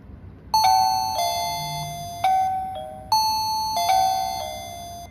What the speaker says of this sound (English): When you ring the doorbell again,